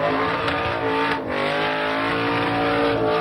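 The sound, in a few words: V8 car with 351 Cleveland engine doing spins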